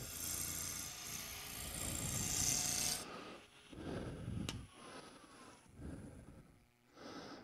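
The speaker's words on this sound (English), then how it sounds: "That is a decent cut for a roughing gouge. This is pine." A roughing gouge cuts spinning pine on a wood lathe, giving a steady rough scraping hiss for about three seconds, followed by quieter intermittent rubbing passes and pauses.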